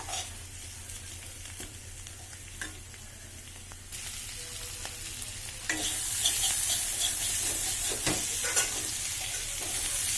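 Chicken curry with potatoes frying in oil in a wok over a gas flame, stirred steadily; a continuous close sizzle with scraping stir strokes, growing louder and brighter partway through.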